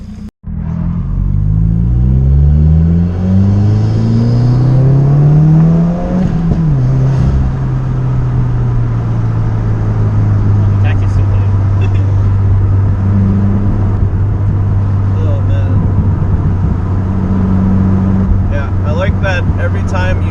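A Subaru WRX pulls hard and accelerates, its engine note climbing through rising gear sweeps before settling into a steady loud drone, with passengers talking inside the car over the engine throughout.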